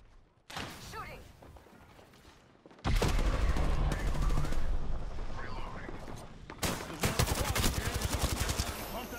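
Bursts of rapid automatic gunfire in an Apex Legends competitive match, loud and sustained with a few pauses between volleys, while players talk over the shooting.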